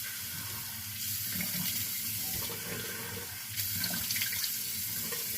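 A bathroom tap runs steadily into a sink as night cream is rinsed off the hands, a close, broadband rush of water that swells slightly where the hands pass under the stream, with no talking.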